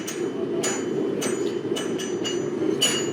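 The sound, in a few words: forging hammer striking hot steel crossbar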